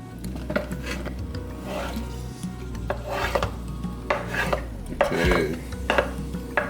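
Mushrooms being scraped into a pan of truffle risotto with a utensil, giving repeated scraping, clinking and stirring sounds close up over a faint background hum.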